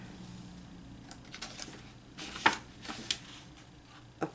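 Small scissors fussy-cut paper for an art journal, a few quiet, sharp snips and crisp rustles spaced irregularly against a faint room background.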